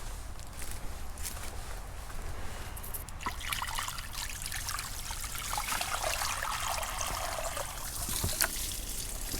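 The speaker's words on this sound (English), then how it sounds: "Let's walk over here and fill the other bird bath with water." Water pouring into a garden bird bath, a continuous trickling splash that grows brighter and fuller as the bowl fills, with faint footsteps early on.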